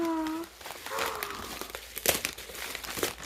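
Paper crinkling and tearing as a Christmas package is unwrapped by hand, with rustling bursts and sharp rips coming close, and a brief voice heard at the start.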